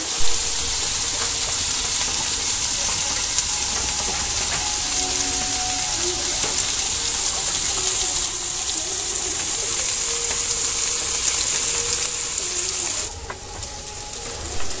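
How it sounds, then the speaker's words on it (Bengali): Ginger garlic paste frying in oil in a pan for a mutton curry, a loud steady sizzle and hiss throughout, dropping in level near the end. "আদা রসুন বাটাগুলো 2 মিনিট তেলের সঙ্গে ভেজে নিব।"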